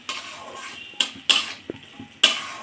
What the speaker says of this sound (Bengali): দিয়ে মাছের সঙ্গে একটু নেড়ে চেড়ে কষিয়ে নেব।